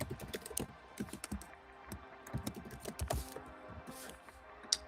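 Typing on a computer keyboard during a live horror news show: quick, irregular clusters of close, quiet key clicks and taps.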